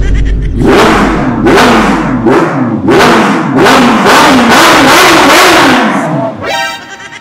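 A 330 HP Kawasaki H2 motorcycle with a Bandimon full-system exhaust, revved hard in a series of loud, rising blips close by, ending in a crackling burble.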